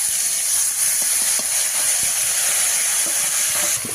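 Water poured onto a hot spice paste of cumin, chilli, onion, garlic and ginger for a Bengali fish curry, giving a loud, constant hiss and steam roar that holds steady for about four seconds, with faint clinks underneath.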